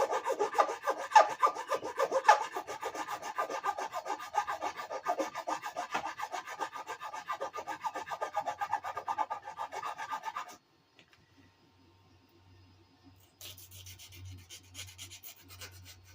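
A file rasps across a metal model part to remove burrs, giving a dense run of fast scratchy strokes for about ten seconds, close and steady, then near silence with a faint hum.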